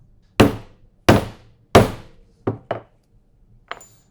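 Hammer strikes setting a snap fastener post into leather: three heavy blows followed by three lighter taps, close and sharp with quiet gaps between.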